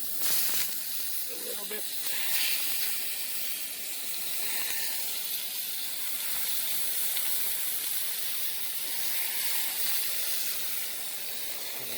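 Steak frying on a camping stove, a steady broad sizzle and hiss throughout, with someone briefly speaking over it.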